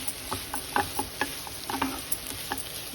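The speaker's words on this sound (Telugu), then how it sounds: "కొంచెం సిమ్లో పెట్టుకొని వేయిస్తూ ఉండాలి" Pumpkin halwa fries gently over a low flame while a spoon stirs it, giving soft scraping taps and a faint sizzle at close range in a quiet kitchen.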